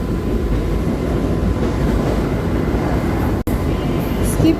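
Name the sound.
Mumbai AC slow local train running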